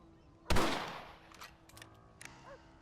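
A single loud rifle shot cracks out in Red Dead Redemption, its boom trailing off over about a second, followed by quieter scattered game noises.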